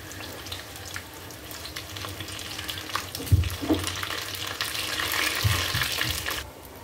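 Chicken money bags frying in hot oil, a steady close bubbling sizzle that swells louder with a few soft knocks and clinks before cutting off.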